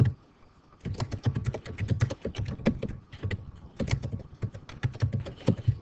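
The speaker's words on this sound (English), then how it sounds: "You can type in text." Rapid, steady typing on a computer keyboard, with close, crisp key taps in quick runs and a brief pause before them and midway.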